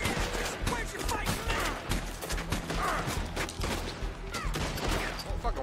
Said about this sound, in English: I'm using a varmint rifle to kill O'Driscolls.